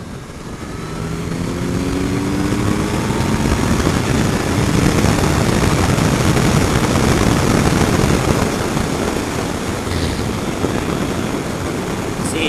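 A new Kawasaki Z900 four-cylinder motorcycle engine revs up from idle into a loud, sustained roar that holds steady and eases slightly near the end, close and dominant throughout.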